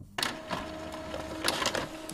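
An Epson Expression Home XP-4205 inkjet printer runs a print job, giving a steady mechanical whir with a faint constant tone and a few louder clunks and carriage strokes, close by with no voices.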